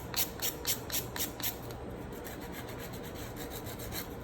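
A nail file working over an acrylic nail, quick regular scraping strokes close by, fairly rhythmic at first and then settling into a continuous rasp.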